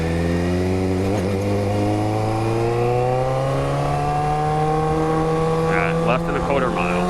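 A car engine pulls hard on an open road, its steady droning note climbing smoothly in pitch as it accelerates, loud and close from inside the vehicle, with a faint voice briefly near the end.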